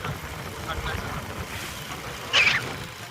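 Strong wind blows steadily at an outdoor spot, a broad rushing roar that gusts louder near the end, with a voice talking faintly underneath.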